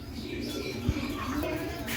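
A ringed pigeon gives a brief, soft coo close by, with people talking around it.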